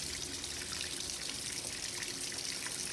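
Water rushes steadily into a Maytag washing machine filling for the rinse, a continuous even hiss and trickle that holds at the same level throughout with no voices.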